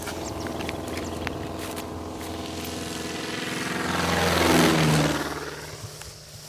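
A propeller plane passes overhead during a rhino search in drought-stricken African bush, its drone building from faint to a loud peak and then fading, with no talk.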